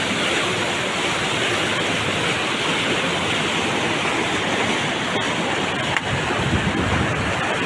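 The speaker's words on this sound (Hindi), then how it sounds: "देखिए कंडीशन क्या है, कितना बहता पानी है," Fast-flowing river water rushes loud and constant, a dense broadband roar close to the microphone with no pauses, near stranded people by Budhni.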